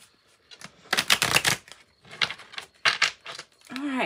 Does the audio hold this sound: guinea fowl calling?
no